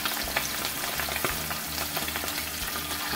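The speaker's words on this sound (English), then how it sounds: "I got some thighs that are boneless, skinless and boneless. We're going to set those down in this oil." Boneless, skinless chicken thighs sizzle steadily in hot oil on a stovetop, a close, even crackling hiss with faint pops and no voices.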